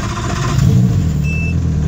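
A cold Evinrude 115hp outboard engine runs loud and close with a steady low rumble, its pitch rising slightly, while a brief high tone sounds near the end and no one talks.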